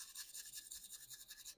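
Toothbrush bristles scrubbing the volume slider of a Game Boy Advance SP during a shell swap, a quick, close, quiet rhythmic scratching of several short strokes, no talking.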